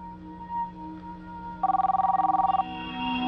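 A telephone rings in a burst of rapid electronic trills lasting about a second, loud and close over a steady background hum, with no talk during the ring.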